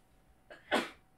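A single sneeze, close and fairly quiet, with a brief sharp intake just before the burst, then silence.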